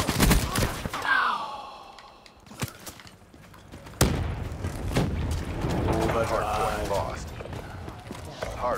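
Scattered gunshots and sharp bangs from a Hardpoint multiplayer match in Call of Duty Black Ops 3, heard in bursts amid game noise while people talk excitedly.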